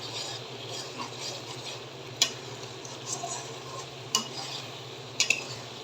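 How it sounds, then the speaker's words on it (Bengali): Spices and oil frying in mustard oil for a dried-fish curry, stirred in the pan with a soft steady sizzle and a few sharp clicks of the spoon against the pot. "এখন তেল আর মশলা একসাথে আবার মাখো মাখো হবে আর কি"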